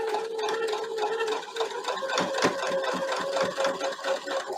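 A sewing machine stitches an Art Square quilt block, running in a continuous fast mechanical chatter with a steady hum and rapid repeating needle beats, close and fairly loud.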